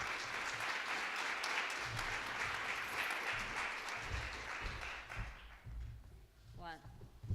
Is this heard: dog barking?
no